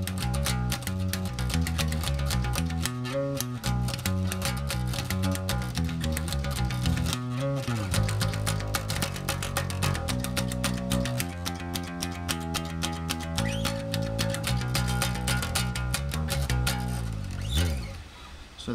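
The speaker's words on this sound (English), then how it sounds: "so this bass sounds like this" Heavy electric bass guitar played through a song, with steady, loud low notes moving in a rhythmic line for the whole stretch before fading out at the end, and no talking.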